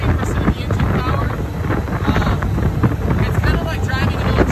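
Military Humvee M998 driving with its loud engine and cooling fan running, a dense, steady drone with heavy wind buffeting throughout and no pauses.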